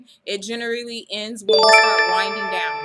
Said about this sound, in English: when somebody subscribes to my channel, you're going to hear those little chimes